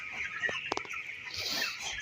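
Three-week-old broiler chickens, about 900 to 950 grams each and some with cold symptoms, cluck in short scattered bursts inside a poultry farm shed over a steady background hiss.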